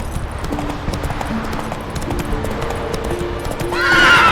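Roach the horse in The Witcher 3 video game, with a steady clip-clop of hooves running and a loud, close whinny bursting out near the end.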